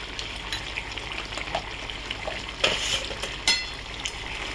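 Chicken being stirred in a pan on a gas stove, with a steady sizzle and scattered scraping clinks of a utensil against metal, including a couple of louder knocks.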